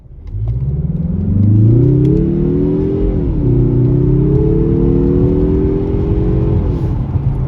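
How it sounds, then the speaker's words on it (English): A 2022 Mazda 3 AWD Turbo accelerates hard, its engine revving up through a gear, briefly dropping at the shift, then climbing again in a loud, close, sustained rising whine with no talking. "let's go ahead and do a quick little acceleration again"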